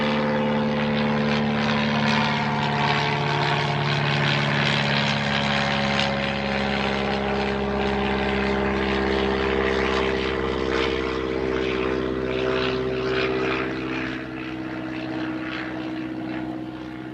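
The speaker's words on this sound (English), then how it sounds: "And apologies about the noise of the plane heading overhead." A propeller plane drones loudly overhead, a steady, close, throbbing engine hum that fills the whole stretch and eases slightly near the end, heard over a nature setting with buffalo.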